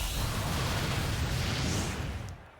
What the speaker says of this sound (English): That explosion goes off on the field